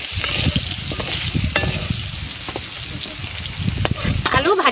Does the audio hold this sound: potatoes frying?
yes